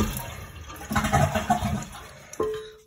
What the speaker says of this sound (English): Flush the toilet, get all the water out.